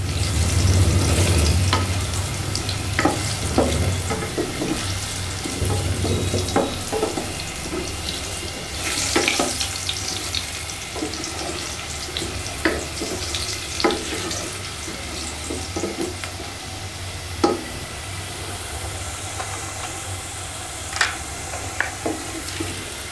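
Potatoes fry in hot oil for a one-pot potato, egg and rice dish, a long steady hiss broken by sporadic utensil clicks and scrapes, with no one talking.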